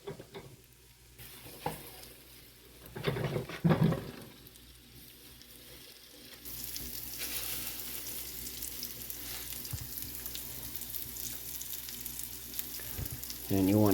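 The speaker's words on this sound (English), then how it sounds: "We'll get our steaks, pork steaks, right up on there." Pork steaks are laid into hot vegetable oil, a few handling knocks then a broad, steady sizzle that swells and holds as the meat sears.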